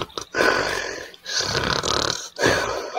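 A person snores in loud, rasping bursts, three long rattling breaths separated by brief pauses, close and alone with no talk.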